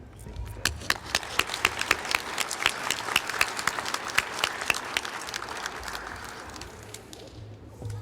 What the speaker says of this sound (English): There's been a lot of clapping